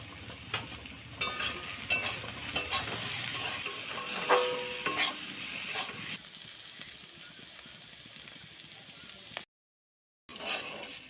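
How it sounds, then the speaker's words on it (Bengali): Teasel gourd (kakrol) pieces with turmeric and salt sizzle steadily in a pan, with the scrape and clatter of stirring, loud at first then quieter, broken by a brief silent gap. "এই যে ভালো করে এই কাঁকরোলটা মানে ভাজা করা হয়ে গেছে"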